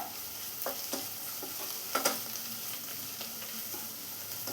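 Crushed ginger and garlic sauté with onions in a pan for a chicken curry, giving a soft continuous sizzle broken by light scrapes and stirs, close and fairly quiet, with no voices.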